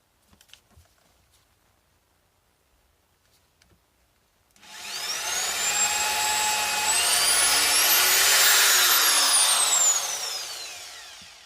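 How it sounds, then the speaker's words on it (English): A loud, steady power-drill whine starts after a few quiet seconds, its pitch rising and falling as the bit bores pilot holes into wooden struts, then stops at the end. "pre-drill the holes for the struts so that the wood doesn't split"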